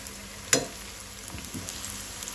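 Goan clam cutlets frying in a pan, with a soft steady sizzle under a sharp clink near the start and a few faint scraping touches afterward.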